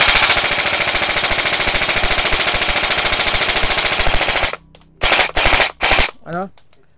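A Bolt DDM4 PDW airsoft EBB rifle fires a long rapid full-auto string, close and loud, then stops and gives three short bursts, followed by a brief mechanical rattle.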